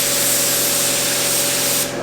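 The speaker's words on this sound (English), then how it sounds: "So now we can spray that and then we can compare those two differences." An automotive paint spray gun loaded with paint sprays in one continuous close, loud hiss for about two seconds before stopping abruptly.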